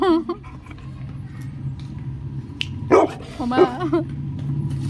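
A dog barks a few sharp times, fairly close, with a short whimpering yip among them over low background rumble.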